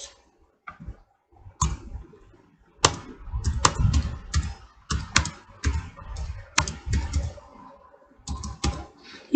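Close-up computer keyboard typing comes in irregular bursts of key presses and sharp clicks, with short pauses between clusters and no voices.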